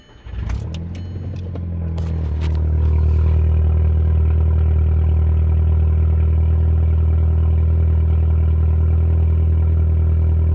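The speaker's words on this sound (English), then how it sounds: "Very loud on a cold start, but, and it is a catless downpipe, so it's 3-inch all the way down" A Volkswagen Mk5 GTI with a catless 3-inch downpipe starts cold, with a brief clatter of keys and cranking, then settles into a loud, deep, steady idle drone.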